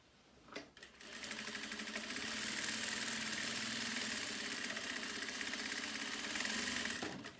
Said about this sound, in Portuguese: Vou passar uma costura aqui pra ele fechar aqui.